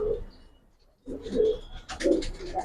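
Giribaz silver pigeons coo in short low bursts, close by, with a brief pause and faint scratching between calls.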